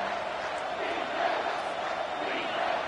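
A stadium crowd roars in the College Football 25 video game during a Michigan versus LSU matchup, a loud, sustained wall of cheering and yelling that swells slightly, with no clear single voice on top.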